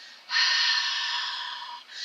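Ujjayi yoga breathing, made with a slightly constricted throat like warming the hands, forms one long, close, breathy exhalation with a soft hiss, followed by the start of another breath.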